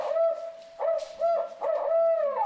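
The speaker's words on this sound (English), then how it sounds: "That plays recorded owl calls, and he starts broadcasting some of these calls." Recorded barred owl hoots broadcast from a small loudspeaker outdoors at night, three loud sustained hooting calls in a row with brief gaps, clear and alone.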